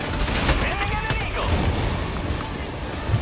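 Dense, sustained gunfire from Helldivers 2 during a fight against killer machines, a steady roar of overlapping shots with heavy low booms, while players talk over it.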